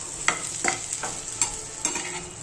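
Halved banana slices fry in oil for a fasting meal, giving a steady bright sizzle with a few soft stirring scrapes and clicks spaced about every half second, close and moderately loud, with no talking.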